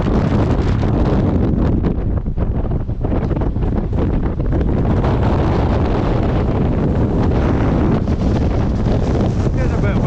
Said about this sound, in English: Getting a bit windy up here now, eh? Howling.